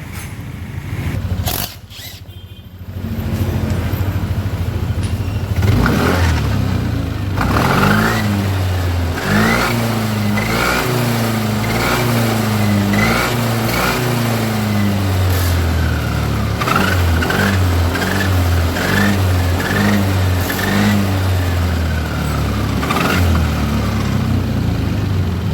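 A Yamaha NMAX scooter with a final gear fault is revved repeatedly, the engine rising and falling in waves with a high whine at high RPM, close and loud, with no talking.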